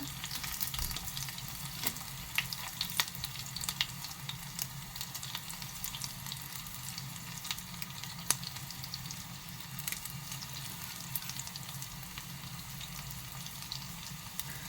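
Onion, dried red chili and curry leaves frying in hot oil with popping mustard seeds for a raw plantain erissery, a steady close sizzle with scattered crackles and no talk.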